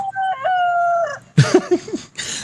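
A rooster crowing sound effect plays on a livestream: one long, clear, drawn-out crow up front, followed by short, louder clucking and squawking bursts with some noisy clatter.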